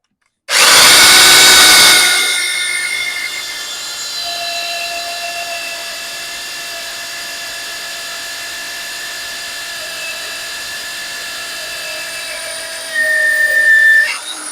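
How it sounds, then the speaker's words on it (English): A power drill with a reamer cuts a half-inch hole through a steel mudflap bracket on a Mack Cruiseliner truck, starting with a loud burst, then settling into a steady whine that surges again near the end. "I'm just letting the drill pull itself in, or the reamer"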